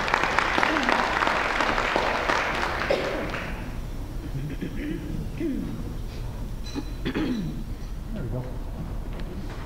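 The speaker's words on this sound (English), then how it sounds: "Let's give them a round of applause, please." Audience applause at a historic marker dedication held at the Woman's Club of El Paso, a dense round of clapping that is loudest at the start and then thins and fades, with scattered voices and chatter continuing underneath.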